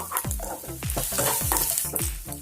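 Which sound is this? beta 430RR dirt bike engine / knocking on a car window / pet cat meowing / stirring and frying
stirring and frying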